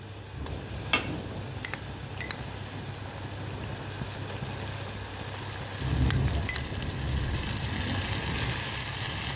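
Ginger-garlic paste sizzling in hot oil while cooking khichuri, a steady loud frying hiss with occasional pops and a swell of sizzle partway through as the paste is stirred.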